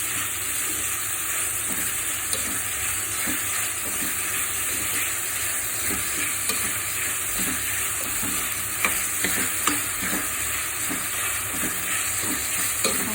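Prawn masala sautéing in a pan for konju kizhi makes a constant hissing sizzle with occasional soft scrapes and stirring taps, steady and close throughout with no speech.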